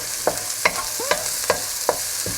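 Onions with chili flakes cook in a pan with a soft, steady sizzle, while a utensil clicks and taps against the pan in a loose rhythm, close and clear with no talking.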